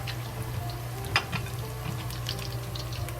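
Pork pieces deep-frying in a pot of oil for sweet and sour pineapple pork, a steady soft sizzle with a few brief pops, no talk.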